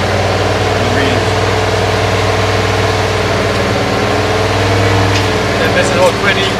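A V8 engine idling during a test, a steady low rumble with an even, continuous drone throughout and voices talking nearby.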